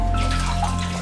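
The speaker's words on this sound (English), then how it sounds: "soak the paper towel," Water runs from a tap as a paper towel is soaked, a steady close rushing with a low hum underneath, continuous and loud throughout.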